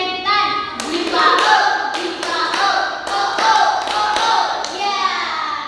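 A group in a classroom performs the tepuk setan clapping game, with sharp, close claps in a quick, syncopated rhythm over several seconds and voices chanting along.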